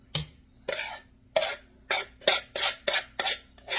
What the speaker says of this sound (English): we're just going to mix it all together.